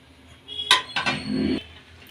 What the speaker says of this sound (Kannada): ಬಾಯ್ಲ್ ಮಾಡ್ಕೊಳ್ಳೋಣ ಚೆನ್ನಾಗಿ ಕೈ ಆಡಿಸ್ಕೊಳ್ಳೋಣ